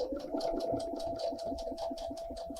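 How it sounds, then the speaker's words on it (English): A Brother sewing machine stitches a seam with fast, regular needle beats and a steady motor hum, close and moderately quiet, with no talk over it. "So let's go ahead and stitch a seam."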